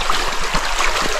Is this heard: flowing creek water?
yes